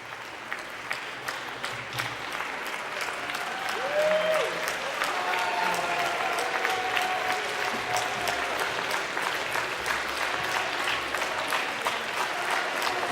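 Sustained applause in parliament as ministers are dismissed, a broad wash of many clapping hands that swells after a few seconds and continues steadily, with some voices faint underneath.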